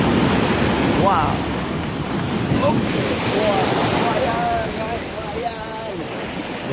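Strong sea water surging and crashing through a narrow gap between rock cliffs at Langee beach, a loud continuous roar of surf with wind buffeting the microphone and voices speaking over it.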